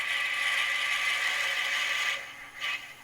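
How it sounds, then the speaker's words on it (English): Tailstock of a wood lathe being locked, a sustained mechanical grinding and scraping that stops abruptly, followed by a short clunk, with no speech. "Nope, helps to lock the tailstock."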